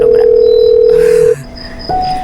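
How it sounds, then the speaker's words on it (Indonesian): A telephone rings indoors in an Indonesian family drama, a loud, steady electronic tone that cuts off after about a second and a half and then resumes at a higher pitch. "Your phone ringing."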